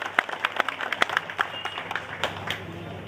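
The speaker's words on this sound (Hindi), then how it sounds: "मैं आप तमाम लोगों से हाथ जोड़कर निवेदन करूंगा कि कम से कम एक बार इन तमाम लोगों के लिए तालियां" Audience applause for speakers on stage at a political gathering, a patchy burst of scattered hand claps at moderate distance, uneven and thinning over a few seconds with no talk.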